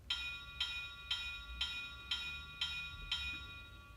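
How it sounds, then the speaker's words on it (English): A GE U23 locomotive bell played through a Tsunami2 sound decoder rings in an even, steady rhythm of about two strikes per second, seven or eight bright clangs with a soft rumble underneath and no talking. "let's just hear the different bells here. So first we'll start with the U-23."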